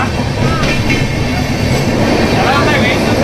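A Vistadome glass-coach train on the Vizag to Araku Valley line rumbles steadily and loudly, with a continuous rolling roar and faint wheel squeals rising over it.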